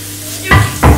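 Onions and merguez meatballs hit a small hot wok in two quick bursts, each a loud, close sizzle rising sharply and then settling briefly.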